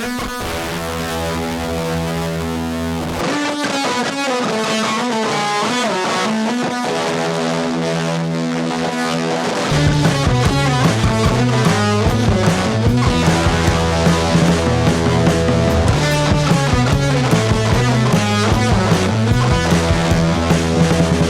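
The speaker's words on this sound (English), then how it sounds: "I completely overloaded it with my Pet Yeti fuzz pedal" Heavily distorted fuzz guitar through a Pet Yeti fuzz pedal with a sweeping wah tone, loud and dense over a full band mix, playing a driving riff and solo lines.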